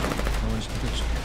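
Dense machine gun fire rattles in continuous rapid bursts during a tank battle in a war video game, loud and close, with voices faintly mixed in underneath.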